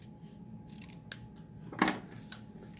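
Scissors trim paper for a handmade card project, giving a few soft, close snips followed by one crisper, louder cut in a quiet room.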